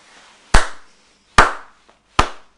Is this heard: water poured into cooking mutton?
no